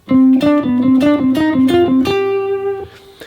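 A plucked guitar line, notes picked in quick succession with one repeated low note alternating against moving higher notes, ending on a held ringing note.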